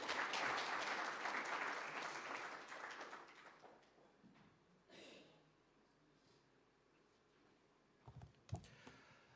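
Applause from a seated audience at a strategic plan launch event rises loud at first, then thins and fades into quieter scattered claps, with a few closer taps and breaths near the end.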